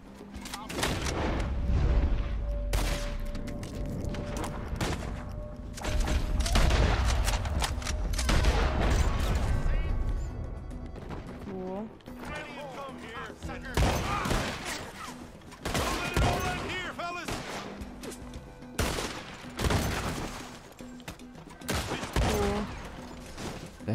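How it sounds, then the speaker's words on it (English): Shotgun gunfire in a Red Dead Redemption 2 camp attack: repeated loud, booming blasts and rapid volleys of shots, some close and heavy, some more distant, mixed with voices talking and shouting. "That shotgun just blows people up."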